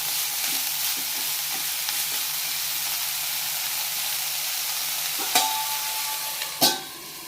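Tabasco pepper leaf thoran sizzles and fries steadily in a pan while it is stirred, with a low continuous hiss and two sharper scraping clinks near the end.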